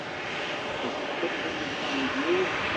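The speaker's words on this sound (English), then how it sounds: "EasyJet arriving in from Geneva." EasyJet airliner arriving from Geneva at Manchester Airport, a steady broadband jet engine rumble and whine sustained throughout, moderately loud and distant, with no talk over it.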